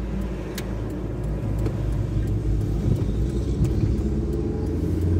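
A car drives through the streets of Greymouth, its steady low engine and road rumble continuous and fairly loud throughout, with no talking.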